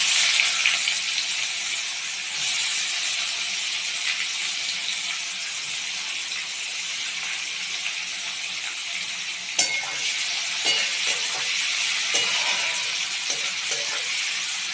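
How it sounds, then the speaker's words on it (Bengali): Onion fries in a pan for Bengali mutton kosha, giving off a loud, steady, close sizzle. Occasional stirring scrapes and light clinks break in later. "পেঁয়াজটা আমি লাল লাল করে ভেজে নেব"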